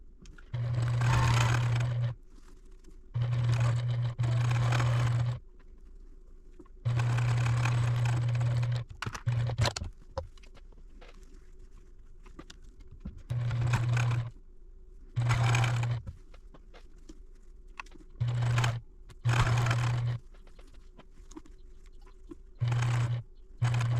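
A sewing machine stitches quilt blocks into rows for a Jacob's Ladder quilt, running in repeated steady bursts of a few seconds each with short pauses between, close and clear with no talking.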